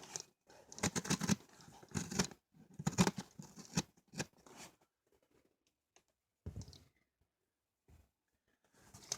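Scissors cut through the packaging of small solar lights. Several close bursts of snipping and crinkling plastic arrive in uneven clusters, separated by short quiet pauses.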